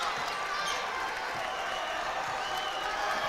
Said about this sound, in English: The crowd in Liberty Arena comes alive.